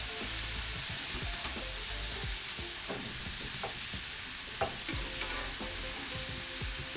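Marinated beef is pushed around on a hot BBQ grill, giving a steady loud sizzle with repeated scraping and clattering of a utensil on the grill, and no voices.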